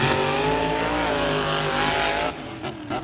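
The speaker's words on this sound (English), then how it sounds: "the motor sounds a lot better now" Monster truck engine at a Monster Jam stadium event in Salinas, 2024, a loud sustained revving roar with a rising harmonic drone that briefly dips near the end.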